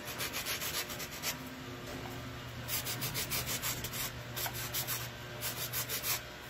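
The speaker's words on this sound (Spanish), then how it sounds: "estoy puliendo, sí, el borde para que quede redondeado" Sanding the foam edge of a handmade Funko-style Peter Pan shoe, a close, dry rasping scrub in quick repeated strokes, with bursts of rubbing separated by brief pauses.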